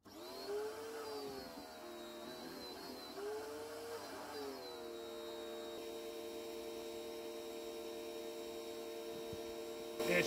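A Gerni pressure washer running as a drain and tube cleaner gives off a steady whining motor hum that wavers in pitch at first, then settles into a constant drone, fairly faint.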